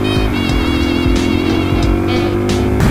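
Suzuki DRZ 400 supermoto motorcycle ridden off road through bushes, its engine droning loud and close with rising and falling revs throughout.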